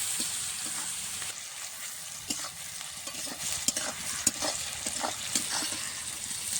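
Chopped onion and tomato frying in a pan, a continuous sizzle with frequent scraping stirs of a spatula across the pan, close and fairly loud, no talking.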